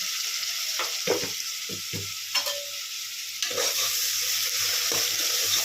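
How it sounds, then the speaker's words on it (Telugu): Onions with salt fry for gongura mutton curry, giving a continuous moderate sizzle broken by frequent spatula scrapes and knocks against the pan, with no one talking. "దీన్ని గోల్డెన్ కలర్ వచ్చేదాకా ఫ్రై చేసుకోవాలి"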